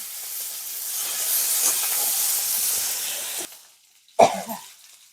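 Panch phoron and green chilies dropped into hot oil for a spinach and fish curry give a close, loud crackling sizzle for several seconds, then fade, followed by one sharp spattering burst.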